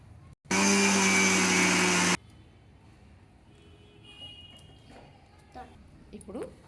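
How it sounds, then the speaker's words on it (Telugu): A mixer grinder grinds roasted sesame seeds for sesame laddus in a short, loud, steady whirring burst of under two seconds, then cuts off, leaving quiet room noise with a few faint clatters. "చక్కగా వేయించాం కదా మిక్సీ పడుతున్నామండి"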